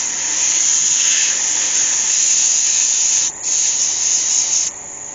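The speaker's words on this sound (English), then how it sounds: "So I just need to sand off the back of those ears." Sandpaper rubs steadily against the back of the ears on a wood-turned baby elephant, a close, continuous bright hiss that dips briefly twice near the end, with no talking.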